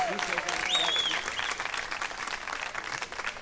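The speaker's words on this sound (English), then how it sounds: "let's just start with a big round of applause for all of these storytellers who have shared this evening" Evening storytelling slam audience applauding the storytellers, a dense wash of clapping that starts strong and thins slightly, with a faint voice or whistle briefly audible above it.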